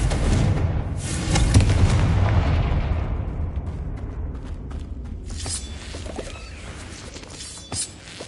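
Confringo blasting spell going off in Hogwarts Legacy, a loud explosive burst that tails off into a long decaying rumble, followed by quieter scattered effects and a short pop near the end.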